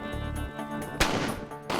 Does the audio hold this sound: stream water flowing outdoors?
no